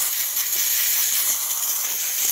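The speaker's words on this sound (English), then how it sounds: "you can see the steam coming out of the machine" Steady, continuous steam hiss from a DeLonghi Magnifica espresso machine fitted with a new water pump, running at full pressure; loud, close and unbroken, with no voices.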